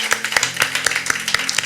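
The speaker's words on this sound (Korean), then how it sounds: "오늘 이 말씀 주신 하나님께 감사의 박수 한번 올려드릴까요?" Rhythmic clapping from a church congregation during a worship service, sharp distinct claps in a fairly regular beat, close and crisp with loose scattered hands between the main strikes and no talking.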